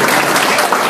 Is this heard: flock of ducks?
no